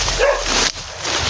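A short, sharp dog bark or yip comes close up, loud and brief.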